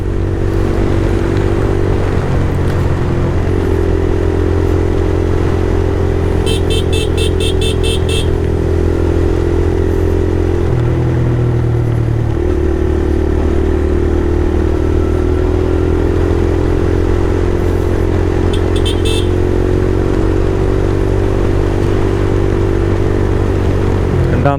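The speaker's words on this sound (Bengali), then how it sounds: "হাই আরপিএম এর সাউন্ডটা না মারাত্মক।" A TVS Raider 125 motorcycle engine holds a loud, steady drone at high RPM while riding, with small pitch shifts as the throttle changes and a couple of brief high chirps, close to the rider with no talk.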